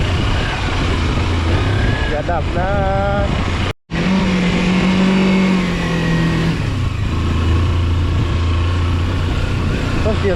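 A car engine revving in second gear while climbing a steep mountain road, a loud steady drone under people talking.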